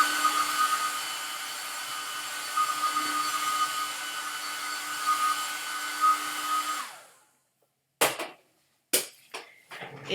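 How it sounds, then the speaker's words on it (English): A hair dryer blows steadily to dry an acrylic-painted background, its motor whining for about seven seconds before switching off, followed by a few sharp knocks and clicks. "take your hair dryer and let's zap that"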